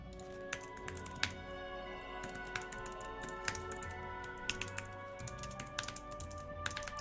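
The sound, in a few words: typing on a computer keyboard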